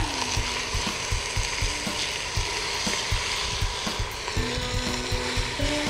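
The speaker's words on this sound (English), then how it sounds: "we just added the beef on top of the onions" Beef browning on onions in a cast-iron potjie pot at the beach, a loud steady sizzle close by with rhythmic stirring knocks throughout and no talking.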